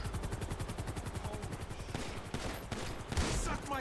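Rapid automatic gunfire rattles out in GTA 5 as a street gang shoots at an on-duty officer, dense bursts crackling close and loud over a helicopter's rotor throb, with sharper individual shots toward the end.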